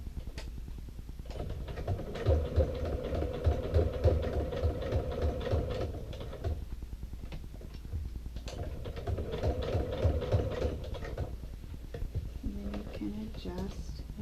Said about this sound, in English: I just make sure I'm sewing through just the flap and the exterior and the interior.